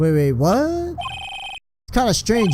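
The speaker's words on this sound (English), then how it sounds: "Heard a phone ring just now." A phone ringtone rings in Phoenix Wright: Ace Attorney, a bright tonal electronic ring of about half a second set between stretches of speech.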